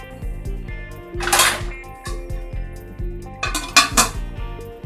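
A metal vessel is set over a cooking pot as a makeshift lid, giving close clanks and scraping metallic clinks in two short bursts, with a ringing resonance between them.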